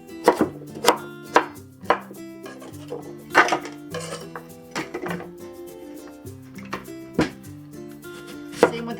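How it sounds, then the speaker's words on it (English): A knife chops a carrot into chunks on a cutting board in a beef noodle soup prep, with sharp, loud cuts landing in an uneven rhythm about once a second, close up, with faint pot and utensil clatter between the strikes. "We'll cut the carrot in half and just into chunks."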